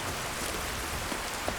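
Steady rain in Skyrim, a dense continuous hiss of drops on surfaces with a few sharper drip taps, even and enveloping with no voices over it.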